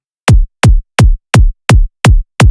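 A synthesized UK hardcore kick drum built in Serum hits seven times in a steady fast pulse, each a sharp clicky attack dropping into a booming sub punch, loud and dry with nothing else playing.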